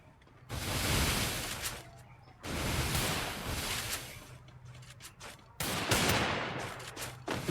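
Free Fire match gunfire comes in three long, dense bursts of rapid shots separated by brief quieter gaps.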